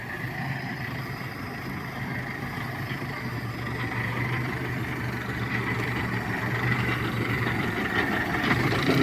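A Lovol 1054 tractor running steadily with a rotary tiller attached, its engine a continuous low rumbling drone that grows slightly louder toward the end, with no talking.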